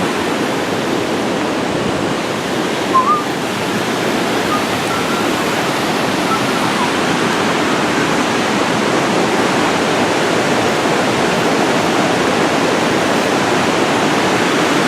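Water rushing through the Flume gorge, a loud continuous broadband roar of falling and churning water heard close up, steady throughout with one brief faint chirp and no talk.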